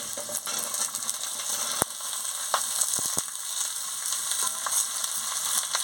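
Mixed vegetables fry in a pan with five-spice tempering, a steady crackling sizzle punctuated by a few sharp clicks and taps of a utensil.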